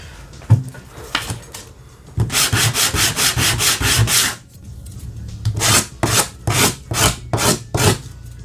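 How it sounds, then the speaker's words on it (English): Hand sanding of a vintage wooden fingerboard deck, close and rhythmic, with rapid bursts of rasping back-and-forth strokes separated by short pauses. "do some hand sanding, get everything nice and refined, and I'm gonna scuff up the bottom and top a little bit"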